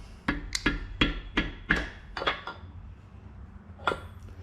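A rubber mallet taps an engine crankshaft main cap on an engine block, giving about nine sharp, hollow knocks: a quick run of six, two more close together, then one after a pause.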